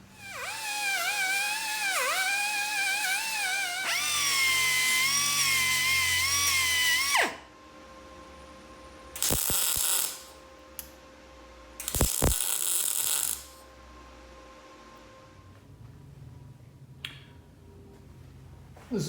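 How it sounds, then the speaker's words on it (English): Two short, loud crackling bursts as weld nuts are welded onto metal brackets in a home shop, following a long high-pitched power tool whine and scattered clicks. "I'm going to weld these little weld nuts onto the brackets."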